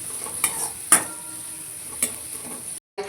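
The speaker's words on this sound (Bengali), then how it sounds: "ড্রাই ফ্রুটসগুলো হালকা করে ভেজে নিচ্ছি" Dry fruits fry gently in melted ghee in a wok with a soft sizzle, punctuated by a few sharp scrapes and clinks of a spatula stirring. No speech.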